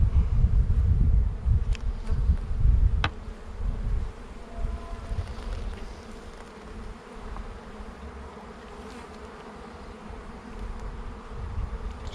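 Honey bees buzz steadily during a beehive inspection, a dense insect hum close by with low rumbling handling noise and a couple of sharp clicks early on, easing to a softer drone.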